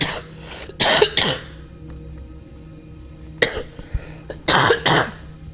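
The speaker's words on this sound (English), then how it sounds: "Excuse me for all the coughing." Several sharp coughs and throat clearings come in bursts close to the microphone, separated by quiet pauses.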